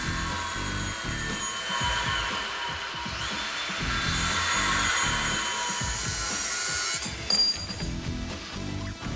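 A bar on the frame of a 1970 Dodge Super Bee is trimmed with a power tool, producing a steady, loud rasping cut that runs almost throughout, with metallic clinks and a brief shift in tone near the end.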